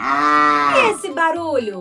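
A cow lets out a long, loud, close moo that slides downward, then a voice briefly speaks over the tail end.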